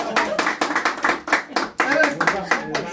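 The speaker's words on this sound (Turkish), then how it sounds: "Bir alkışlayalım." A small group claps hands in uneven bursts, the individual claps distinct and close, broken by short pauses, with people talking over and between the clapping.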